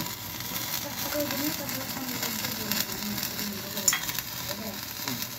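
Oil hits a hot pan as eggplant fries, giving a steady close sizzle with light stirring scrapes throughout, and a voice speaks over it faintly.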